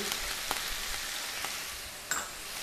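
An egg sizzles steadily in melted butter in a large hot frying pan, a soft continuous crackle with a few faint clicks and no talking.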